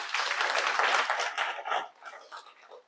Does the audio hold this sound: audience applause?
yes